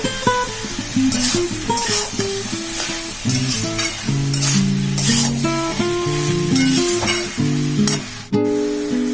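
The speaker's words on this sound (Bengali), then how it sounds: "এর মধ্যে এক চামচের মতন চিনি দেব দিয়ে ভালো করে এটা নাড়াচাড়া করে নেব" Chichinga (snake gourd) frying in a pan is stirred with a spoonful of sugar, a continuous sizzle and stirring heard under loud melodic background music.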